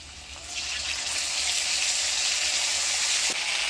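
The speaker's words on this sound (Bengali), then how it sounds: "ফোড়নের তেলে আলুটা আমি ভালো করে একটু ভাজা ভাজা করে নিলাম।" Potatoes fry in hot spiced oil with a loud, steady sizzle, a dense hiss that swells in and holds, with a brief clink near the end.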